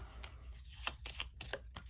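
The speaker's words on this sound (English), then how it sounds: "you're going to take all the 1s, and you're going to just shuffle them up" Cards from a GI Joe deck-building game are shuffled by hand in a run of quick, crisp riffling bursts, close by and with no other sound.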